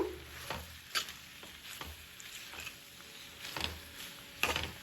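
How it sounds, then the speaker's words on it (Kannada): Pasta being stirred in a pan, with soft scraping strokes and light sizzling in an irregular rhythm, close and quiet, with no talking. "ಈಗ ಇದನ್ನ ಮಿಕ್ಸ್ ಮಾಡೋದು ಚೆನ್ನಾಗಿ ಮಿಕ್ಸ್ ಮಾಡ್ಕೊಬೇಕು"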